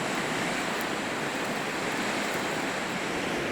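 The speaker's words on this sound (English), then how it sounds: "this is a swamping hazard, this rapid" A river rapid on a Yukon wilderness canoe trip roars as a steady, dense wash of rushing whitewater, loud and unbroken throughout with no voices.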